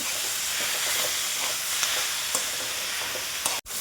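Fenugreek leaves (methi) fry in hot oil with a continuous dense sizzle and soft stirring scrapes throughout, with a brief dropout just before the end.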